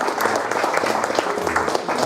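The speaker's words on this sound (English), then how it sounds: "Let's get a round of applause for you guys and all the hard" Alumni reunion audience for a 50th anniversary class celebration breaking into sustained applause, many hands clapping densely and steadily throughout, with crowd voices mixed in.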